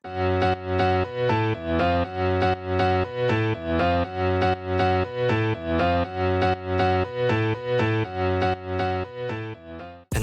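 A distorted synth chord track pumps rhythmically with Kickstart sidechain compression, each beat ducking the sustained tones before they swell back, steady and loud throughout.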